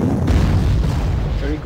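Artillery fire in the strategy video game Panzer Corps Gold, a deep, loud rumbling boom that fills the short clip with heavy low-end blasts.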